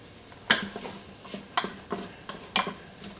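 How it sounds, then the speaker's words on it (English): A cup of chopped onions dropped into the bottom of an Instant Pot pressure cooker while making pulled pork, several sharp clattering scrapes and taps in the metal pot, close and fairly loud with no talking. "we're going to throw our onions down the bottom of here"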